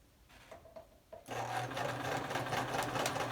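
A sewing machine stitches a fabric face covering. After a few faint taps and slow starts, the motor kicks in abruptly and runs steadily with a fast, whirring stitch rhythm, close and quiet.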